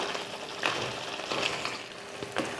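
Chettinad crab masala is stirred and fried in a pan, giving a soft steady sizzle with three light scraping stirs spaced about a second apart, quiet and without voices.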